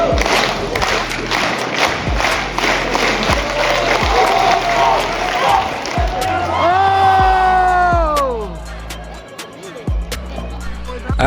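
Track meet crowd roaring and cheering around a men's high jump at 6 feet 8 inches, loud and continuous with whoops and clapping, fading toward the end.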